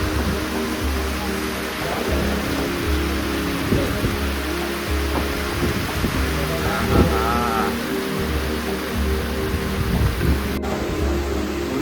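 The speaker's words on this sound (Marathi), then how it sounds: "पावसाने आता मॅच चालू असताना जोरदार हजेरी लावली आहे" Heavy rain pours during an evening cricket practice in the Konkan countryside, a dense, steady, close hiss with a low rumbling undertone that holds for the whole stretch.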